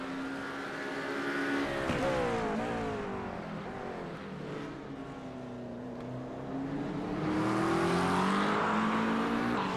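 GT3 race cars lap Donington Park GP in a sim racing game, their engines whining continuously as pitch climbs and falls through gear changes, with a louder surge of passing cars near the end.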